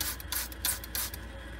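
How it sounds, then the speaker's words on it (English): A spray bottle of Star San sanitizer misting a keg's liquid-out connector, several short, faint hissing spritzes in quick succession, heard alone without talk. "So we're going to spray that off here."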